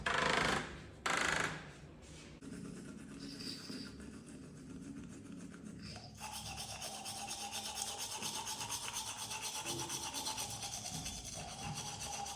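Someone brushes their teeth with a toothbrush, a close, steady, scrubbing rasp that starts after a few knocks and clatters and then continues evenly with slight rhythmic pulses.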